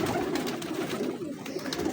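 Pigeons coo softly in a low, rolling murmur, with a faint cluster of calls that continues steadily for a couple of seconds.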